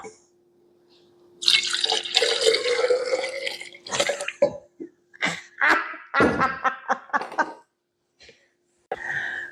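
Milk is poured into shop-bought yogurt and a starter culture while making Greek yoghurt, producing close, gurgling pours in several uneven bursts separated by short silences.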